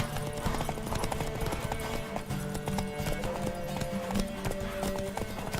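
A horse's hooves clip-clop in a quick steady rhythm over game music in The Witcher 3, with a faint voice underneath.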